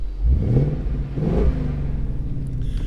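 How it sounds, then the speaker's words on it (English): A 2015 Ford Mustang GT V8 with a six-speed manual revs twice in quick succession, each blip rising and falling in a deep, close rumble before settling back to a steady idle. "you can definitely hear that V8 rumble"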